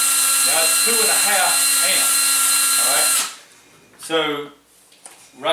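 A battery-powered cordless drill drawing about 2.5 amps whines steadily at high speed while someone talks over it, then cuts off, leaving his voice alone in a quieter room.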